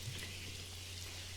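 Steady rain falls in the video game Strange Horticulture, a soft, even hiss of drops with a low hum beneath, continuous and quiet throughout.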